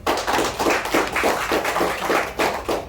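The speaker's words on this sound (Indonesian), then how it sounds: "Boleh tepuk tangan ya." An audience at a health talk claps in unison, a loud, rhythmic series of evenly spaced collective claps repeating steadily throughout.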